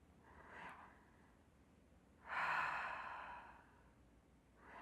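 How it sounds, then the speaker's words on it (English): Soft breathing during a yoga pose in a quiet room: a faint breath, then a longer, louder exhale like a sigh, close and gentle, with no voices. "Taking a few breaths here."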